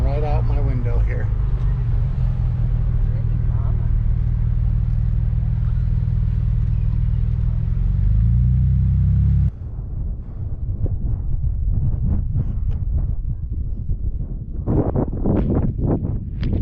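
Jeep driving off-road on a trail in Colorado, a loud low engine drone with wind buffeting that drops suddenly, followed by rumbling and scattered bumps and knocks as it rolls on; a person talks over part of it.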